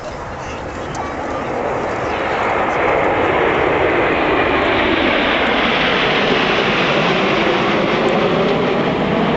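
Red Arrows display jets make a low-level flypast at the Marham Family Day airshow, with smoke coming on for the flanking aircraft. A loud, continuous roar swells over the first few seconds and then holds steady, with voices faintly beneath it.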